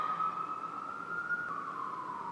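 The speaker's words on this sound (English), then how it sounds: "oh my god, the sirens" Emergency vehicle siren wailing steadily at moderate distance, one sustained tone slowly sliding across the whole stretch with no voices over it.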